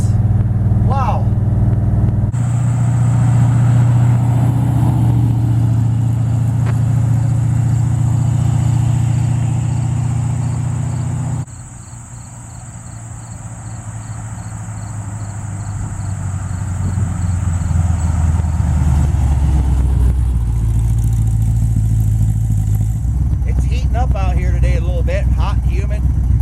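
A Dodge truck with a 5.9 Magnum engine drives down the road, its engine drone and road rumble loud and steady throughout, dipping briefly midway before building again.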